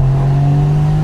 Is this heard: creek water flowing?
no